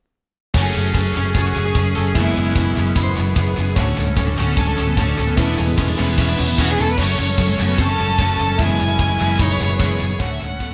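Dense, upbeat instrumental video game music with bright synth melodies and steady rhythm plays continuously at full volume after a brief moment of silence.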